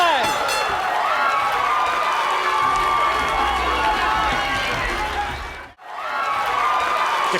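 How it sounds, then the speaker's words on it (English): A packed crowd at an MMA event in San Miguel Hall, Ventura County Fairgrounds, roars and cheers in a dense, continuous wall of noise, briefly dipping to near silence before swelling back. "The crowd is still absolutely electric on their feet here at the historic San Miguel Hall"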